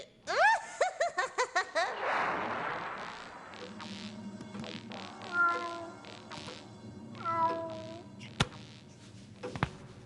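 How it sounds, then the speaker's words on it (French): A cartoon cat meows several times over lively animated sound effects, with a snickering laugh and swooping whooshes mixed in. "Cette chatte a vraiment l'air malade."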